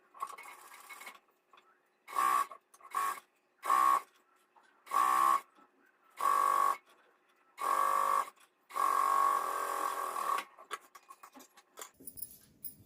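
A sewing machine stitching an Afghani salwar runs in a series of short, steady buzzing bursts of a second or two each, then one longer run, close and alone with pauses between.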